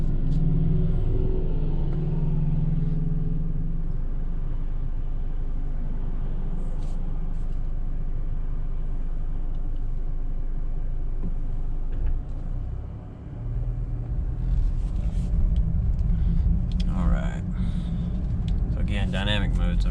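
Alfa Romeo Giulia Ti Sport Q2 in dynamic mode pulling out onto the road, a steady low engine rumble building as it accelerates, loudest toward the end, with road noise throughout.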